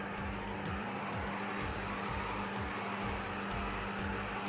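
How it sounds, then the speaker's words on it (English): Steady loud engine roar with rhythmic pulsing, a car burnout with spinning tires in the GTA Online video game, continuous and close with no talk. "Yeah, we'll do a burnout."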